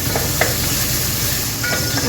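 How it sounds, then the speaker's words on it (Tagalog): Garlic frying in a small amount of olive oil gives a steady, dense sizzle that runs unbroken throughout, with a few faint stirring clicks over the top. "First tip is we need a small amount of olive oil, then garlic,"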